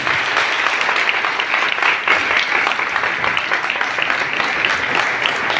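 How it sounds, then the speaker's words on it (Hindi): An audience at a church farewell gathering for a reverend claps steadily and loudly, a sustained, even roar of many hands with no break, and little talk audible. "पाँच साल का पूरा ताली बजाते रहिए।"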